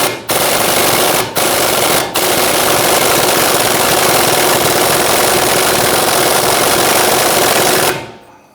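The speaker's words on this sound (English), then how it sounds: "as we were tightening down our nut, our ball joint stud was spinning inside here" An impact wrench or similar power tool drives a ball joint nut on a 2011–2023 Dodge Charger's front lower rearward control arm, a loud continuous rattling whir lasting most of the span after two short bursts, close and with no talk.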